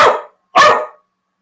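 Two loud, close barks from a happy dog, spaced about half a second apart, with nothing else around them.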